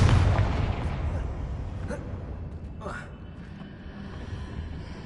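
A Confringo blasting spell cast in the game Hogwarts Legacy lands as a loud burst that fades into rumbling noise, with further fainter pops and crackles trailing after under a busy game mix.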